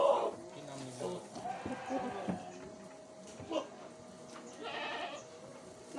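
Goats bleating nearby at an Indonesian livestock market while buyers shop for a sacrificial animal for Eid al-Adha, several calls rising over steady crowd chatter and people talking close by.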